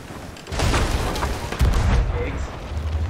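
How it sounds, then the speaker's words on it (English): Heavy ship cannon blasts in Sea of Thieves, a broad rumbling boom at about half a second and another heavier thump near 1.6 seconds, over a loud, continuous roar of sea and game noise. "I think I'm gonna start shooting him and blow him up."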